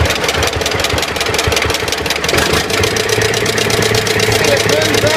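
A John Deere BN tractor engine runs steadily after governor repair, a loud, even mechanical chug with rapid firing pulses throughout, close to the listener and without speech.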